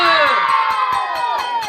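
Children cheer and shout together in a loud, high chorus, while sharp claps land at a steady, even beat under the voices.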